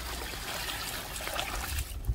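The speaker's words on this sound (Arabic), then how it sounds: "هيدي المي بدنا نكبها ما بقت لي زبط المي رح نكبها" Water pours out of a cooking pot in a steady, close trickling stream lasting about two seconds, heard alone with no talking.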